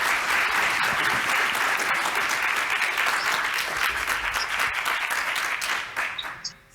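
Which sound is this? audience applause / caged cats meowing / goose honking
audience applause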